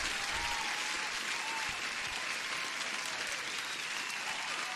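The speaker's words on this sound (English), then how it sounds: "Let me give you an applause." Steady, even applause sound effect for a livestream viewer during a futures day-trading session, a continuous hiss of many clapping hands at low level with no break.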